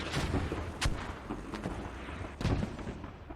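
Mortar fire in a multiplayer military shooter match, heavy booms and thuds of shells landing amid rumbling explosions, a few loud impacts standing out over a dense battle din.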